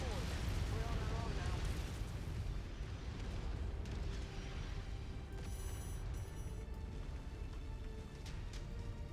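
Airstrike explosions in MechWarrior 5: Mercenaries rumble through as deep, booming blasts that roll on in a continuous heavy roar, with a few crackling bursts layered over the low thunder.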